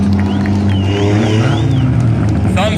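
4-cylinder class race cars running a heat race on a dirt oval at Valley Raceway, engines droning steadily and loud at close range, with a faint announcer-like voice drifting underneath.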